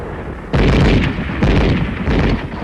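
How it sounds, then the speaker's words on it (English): Machine gun fire in arctic combat on a snowy battlefield, heard as three loud, heavy bursts of rapid shots with brief pauses between them, booming and close, without talk. "Our machine gun covers the advance."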